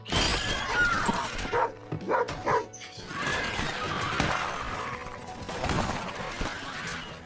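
A dog barks in the 2019 film The Silence as creatures attack a car, sharp yips and barks mixed with crashing and shattering impacts in a loud, chaotic scene.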